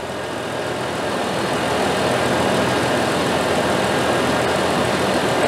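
A car engine idles for an air-conditioning manifold gauge hookup, producing a steady, even mechanical hum that builds slightly in loudness and stays constant and close, with no voices.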